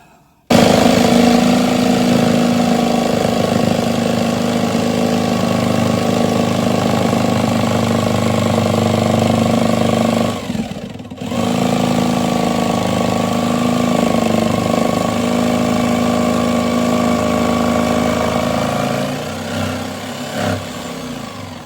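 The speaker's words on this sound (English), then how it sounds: "Next trick's the jigsaw, and that's where you really don't want to cut the hose." A jigsaw cuts an inspection hatch into a sailboat's interior panel during prop shaft bearing repair work, giving a loud, steady buzzing drone that runs nearly continuously, with one brief dip in the middle and a slight tail-off at the end.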